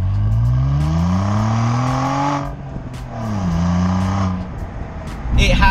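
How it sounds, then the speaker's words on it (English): Turbocharged Saab 9-3 Aero with a Hirsch Performance exhaust, revving up and settling twice in a deep burbling drone, loud and close, with a rougher rumble at the end. "These things would consist of the exhaust system, which has a very, very nice burble to it."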